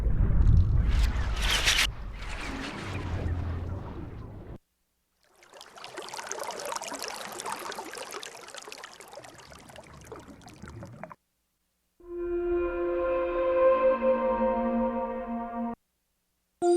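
Underwater sound samples played on a Deluge sampler: a deep rumbling gush, then a hissing watery wash, then a tonal, droning underwater texture, each separated by brief silences, close and clear with no talk.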